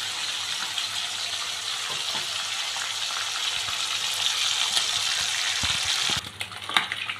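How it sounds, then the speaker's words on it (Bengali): Katla fish heads fry in hot oil in a home kitchen, a steady bubbling sizzle that runs evenly, then cuts out abruptly near the end with a few clinks and knocks. "তো মাছের মাথাগুলো আমি এই যে সুন্দরভাবে ভেজে নিয়েছি, ভাজা হয়ে গেছে"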